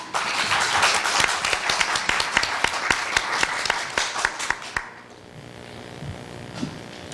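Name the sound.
applause welcoming a speaker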